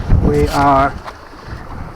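Steady wind buffets the microphone aboard a Jaguar 21 sailboat running downwind in about 15 knots of wind, a low rumbling roar under a man's brief spoken words.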